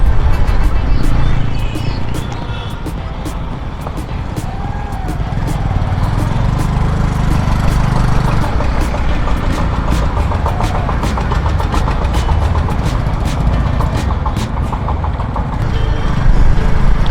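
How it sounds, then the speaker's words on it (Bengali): Vehicles idle in a heavy traffic jam at a railway crossing in Malda: a loud, continuous engine rumble close by, with horns and street noise around it throughout. "রেলওয়ে ক্রসিংয়ে প্রচণ্ড জ্যাম"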